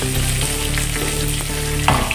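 Oil sizzles steadily in a pan for an egg gravy, a constant close frying hiss with a few light clicks and pops toward the end; no one speaks.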